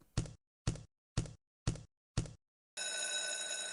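A Novomatic slot machine bonus round rings a bell, heard first as five evenly spaced electronic bell or knock strikes, then a sustained ringing tone to the end.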